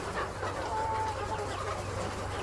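Chicks on a poultry farm: dense, continuous cheeping and clucking from many birds close by, steady throughout and sounding alone.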